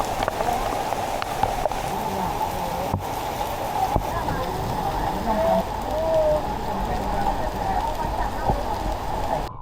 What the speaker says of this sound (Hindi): बारिश रुकने का नाम ही नहीं ले रही है पिछले 10-15 मिनट